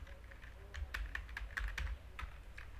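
Keystrokes tapped on a computer keyboard while entering table data, a quick irregular patter of clicks with short pauses, close and clear over a low steady hum.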